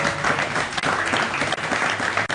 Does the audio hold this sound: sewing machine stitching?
no